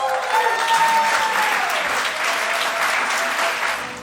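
A conference audience at an international opening session breaks into loud, full applause, a steady wash of clapping with a faint sustained musical tone threading through at the start, tapering off at the end.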